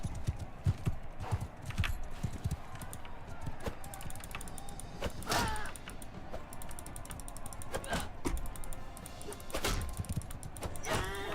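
Horse hooves clip-clop in uneven bursts alongside creaks, clanks and other game action noises in Mount and Blade Bannerlord, at moderate volume, with no talking.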